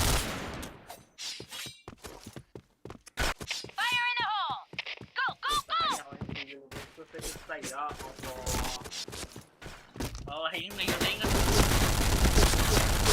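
MP5 submachine gun fire in the shooter game Point Blank comes as rapid bursts of sharp shots with gaps between, under frequent talk, ending in a loud noisy stretch.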